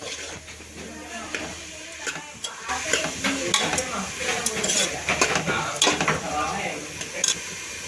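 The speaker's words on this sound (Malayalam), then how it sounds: "ഇപ്പം നമ്മൾ ആവശ്യത്തിന് ഉപ്പിട്ടിട്ട് അത് നന്നായിട്ട് വഴറ്റി കൊടുക്കുക." Vermicelli upma being sautéed with salt in a pan, a spoon scraping and stirring in irregular clinks and scrapes over a soft continuous sizzle, close and moderately loud.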